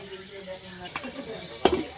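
Oil sizzles as tilapia fries in a pan, with a couple of sharp clanks and scrapes of a utensil against the pan.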